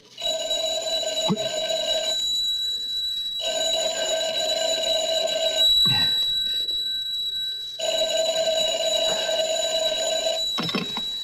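A telephone rings in an old radio drama. Its electric bell sounds in three long bursts separated by short silences, and soft thumps and movement fall in the gaps. The ringing is close and clear.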